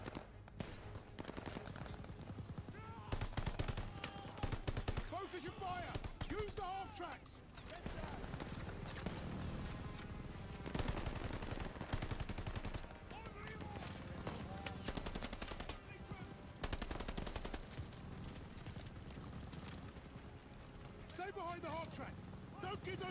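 Machine gun fire in Call of Duty Vanguard, with dense, sustained bursts of automatic shooting throughout, loud and chaotic, mixed with other battle noise.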